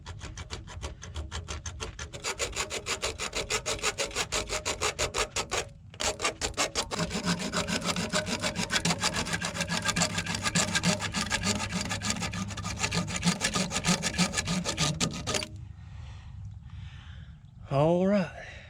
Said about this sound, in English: let's try to go ahead and do it with a hacksaw